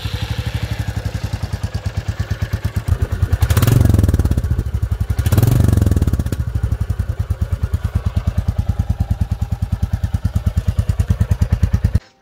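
A Royal Enfield Classic 350 idles through its stock silencer exhaust with a steady, evenly spaced single-cylinder thump, rising twice into short revs before settling back to idle.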